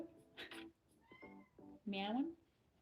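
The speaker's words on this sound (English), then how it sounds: "Meowing for attention." Cat meowing for attention indoors, a couple of short calls and then a longer, louder meow, heard faintly with a voice talking in between.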